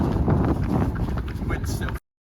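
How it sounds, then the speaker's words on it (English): Wind blows outdoors in a rough, gusty roar buffeting the microphone, loud and uneven, before cutting off abruptly near the end. "Filming this, you can see it's windy."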